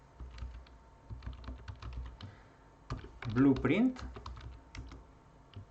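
Computer keyboard typing in quick, light clicks, steady through the clip, while someone talks over it.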